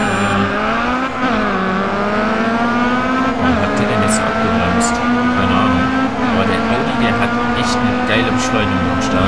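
Race car engines in the GRID Autosport video game rev hard at the start of a race, a dense, loud whine of several cars climbing in pitch together over about nine seconds.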